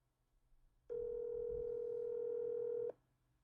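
A single long telephone ring tone sounds for about two seconds, a clear steady electronic tone heard alone over faint background noise.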